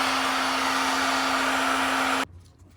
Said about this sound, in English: just heat it up at 160 degrees with heating gun or